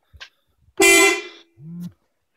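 An aftermarket Spitfire racing horn set on a 2013 Honda Civic honks loudly in a short blast, followed by a second, lower-pitched honk after a brief pause, with faint clicks around them.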